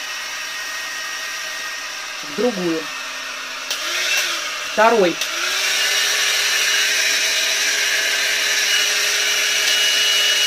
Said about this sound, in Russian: Вот как вращается щетка.